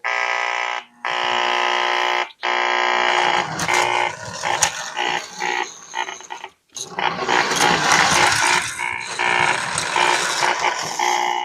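The steam sound unit in a 1973 Lionel Blue Streak toy train gives a harsh electric buzz, then rough, hissing chugging bursts that roughly mimic a steam engine, loud and close.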